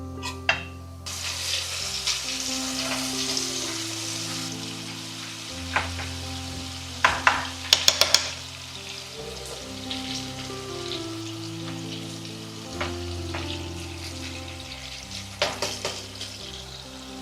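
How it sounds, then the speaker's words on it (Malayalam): Prawns deep-frying in hot oil with a constant bubbling sizzle, close by, punctuated by sharp clinks and scrapes of a utensil stirring and lifting them. "ഇതുപോലെ എല്ലാ ചെമ്മീനും വറുത്ത് കോരാം ഈ ഒരു പാകത്തിന്"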